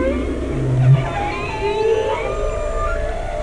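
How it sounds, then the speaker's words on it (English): Whale song plays on a Neal.fun web page, with low moaning calls and higher sliding wails drifting over a steady hiss, fairly loud and continuous. "Share this whale song with your whale friends so they can learn about this page."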